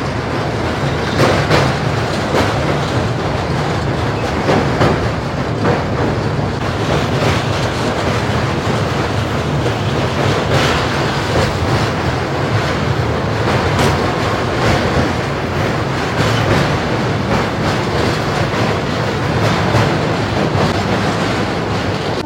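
The Howrah–Barbil Jan Shatabdi Express crosses a long rail bridge over the Rupnarayan river with a dense, continuous roar and rapid rhythmic clatter of wheels, loud and close for the whole stretch.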